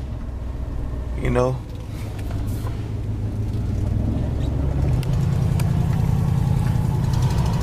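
A 1989 Chevrolet Caprice Brougham LS on used tires cruises along, its engine a steady low rumble heard from inside the car, with someone talking over it throughout.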